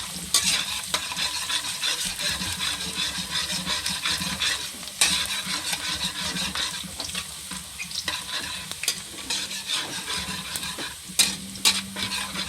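Garlic sautés in a hot pan, a steady sizzle and frying hiss broken by scraping stirring strokes throughout, close and fairly loud with no talking.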